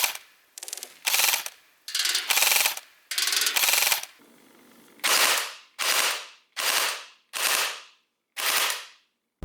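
An ICS Lightway Peleador 2.0 M4 AEG airsoft gun fires close and loud, first in several longer bursts of rapid full-auto shots, then in a run of short, evenly spaced bursts with the motor whirring inside each.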